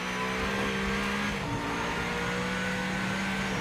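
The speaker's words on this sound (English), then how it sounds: "Listen to the upshifts with the paddle." A race car in the Rennsport sim racing game drones at steady revs, a single slow paddle upshift briefly interrupting the loud, continuous engine tone, with no voices.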